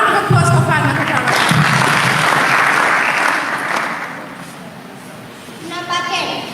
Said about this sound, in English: A round of applause for Fatima Tarawale.